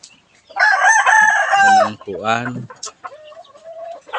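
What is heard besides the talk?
chickens of Joey Estrada clucking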